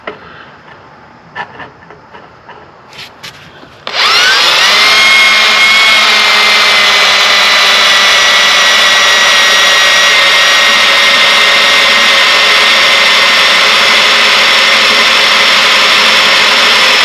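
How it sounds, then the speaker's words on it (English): A sanding disc spins up on painted trailer metal to strip paint before drilling, giving a loud, steady, high-pitched grinding whine that runs without a break after a few seconds of quiet shop noise. "clean the paint off with my sanding disc."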